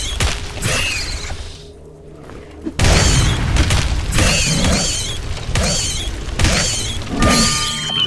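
Bombs go off in a video game as loud, close booms with crunchy shattering and clattering mechanical noise, repeated in bursts after a brief quieter gap.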